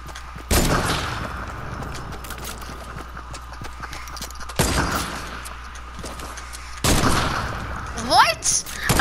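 Gunfire in a Fortnite shootout: three sharp, loud shots spaced a few seconds apart, each followed by a ringing decay, with quieter crackle between them and a voice talking near the end.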